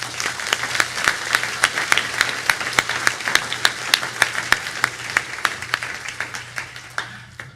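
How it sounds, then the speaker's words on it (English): Audience applause at a graduation ceremony, sustained crowd clapping with sharp individual claps standing out, fading slightly toward the end. "let's give these teachers and all teachers a big round of applause"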